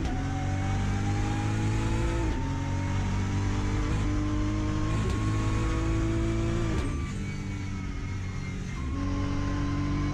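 A BMW race car runs at the 2023 Nürburgring 24-hour race. The engine gives a loud, steady onboard drone, rising in pitch and dropping briefly at each gear shift.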